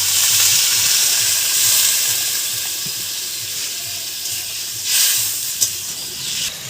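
A pointed gourd and egg curry simmers in a pan after water is added, giving a steady hissing sizzle with light bubbling and a few soft clinks.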